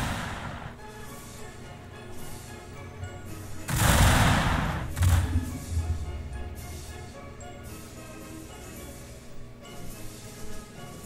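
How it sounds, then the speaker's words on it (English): In Shogun 2: Fall of the Samurai, musket infantry fire by rank, sending out rolling volleys of crackling shots. A heavy, booming burst swells in the middle before the fire thins back to scattered distant pops over a continuous battle rumble. "we're just gonna watch this wonderful fire by rank"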